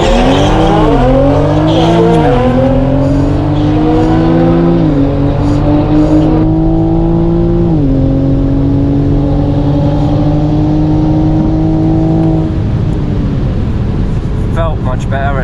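A Stage 1 Evolve tuned Toyota A90 Supra launches down a quarter-mile drag strip, its engine loud and close, climbing hard through several upshifts, then easing off while a voice talks over it.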